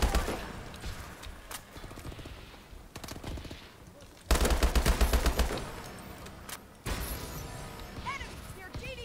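Bursts of automatic gunfire from Call of Duty Advanced Warfare multiplayer come in several loud rapid volleys separated by quieter gaps, with a player talking in between.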